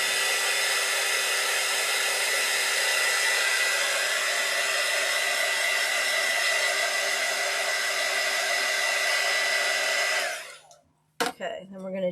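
A hair dryer blows steadily on cobalt blue alcohol ink spread on a ceramic tile, a loud continuous whoosh for about ten seconds before it cuts off abruptly, followed by a couple of brief clicks.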